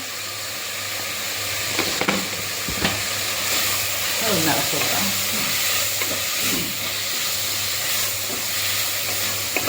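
Onions sauté with a quarter spoon of turmeric powder in a pan for a chickpea curry, giving a continuous hiss and sizzle broken by a few scraping stirs, with faint background murmurs.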